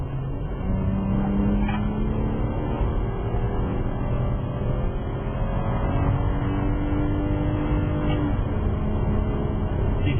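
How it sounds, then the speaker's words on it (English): A car's 3-litre flat-six engine drones steadily and close up throughout. Its pitch rises and falls as it pulls along a road, with no talk. "You hear that engine? That's a 3-litre flat 6."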